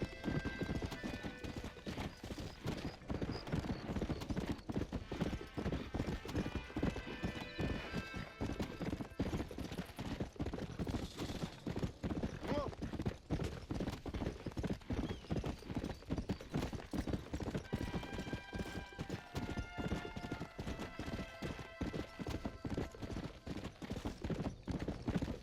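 Horse hoofbeats at a steady gallop while riding in Red Dead Redemption, a continuous rapid clip-clop carrying on for the whole stretch, with an occasional whinny over a light musical backdrop.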